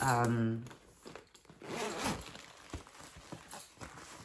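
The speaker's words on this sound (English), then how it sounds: "it has a double zipper" A double zipper on a Halloween makeup bag is pulled open in a quick close rasp, followed by soft handling and rustling of the bag.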